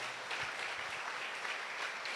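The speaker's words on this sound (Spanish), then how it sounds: "Denle un aplauso al Señor en esta mañana." Faint, distant applause from a church congregation, a soft continuous patter of clapping with no voices.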